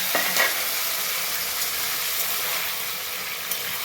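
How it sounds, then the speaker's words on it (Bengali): Taro and potato pieces hit hot oil with tempering spices, giving a sharp initial crackle before settling into a steady, close sizzle with an occasional light stir. "এবার আমি গাঁঠি কচু আর আলুটা ফোড়নের মধ্যে তেলের মধ্যে দিয়ে দেবো।"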